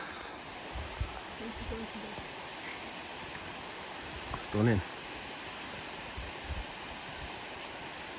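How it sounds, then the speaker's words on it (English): A waterfall at Bolton Abbey in the Yorkshire Dales makes a constant, even rush of water in the open air, with people talking briefly over it. "it is a beautiful waterfall"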